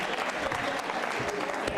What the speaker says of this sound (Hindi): विनीता जी के लिए तालियां बजाइए, जोरदार तरीके से तालियां बजनी चाहिए।